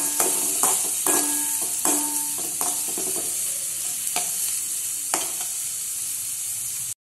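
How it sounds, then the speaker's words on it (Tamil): Tomatoes and onions sauté in a pan for egg rice, with steady sizzling broken by repeated scraping stirs of a spatula, clear and close with no talking. "இப்போ தக்காளியும் நல்லா வதக்கலாம்"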